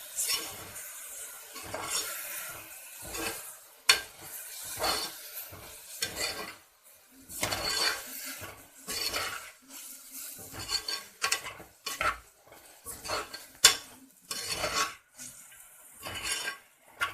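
Tomatoes sauté in a pan for tomato rice, a soft sizzle broken by repeated scraping strokes of a spoon stirring against the metal, close and rhythmic at irregular intervals.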